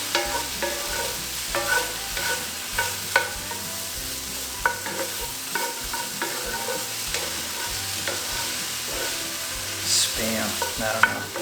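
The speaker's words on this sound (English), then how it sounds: "Diced Spam going in." Diced Spam fries in a hot pan with a steady sizzle, broken by scraping stirs and occasional sharper clacks of the utensil against the pan, close and loud with no talking.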